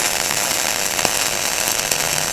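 Flux-cored arc welding runs an overlapping surface bead, the wire laid almost onto the previous weld, giving a loud, steady, close crackling sizzle with occasional sharper pops throughout.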